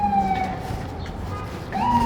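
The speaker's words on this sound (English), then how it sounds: "So on my way over here, a lot of ambulance." An ambulance siren wailing in the distance, its tone sliding up and down, fading then rising again over low traffic rumble.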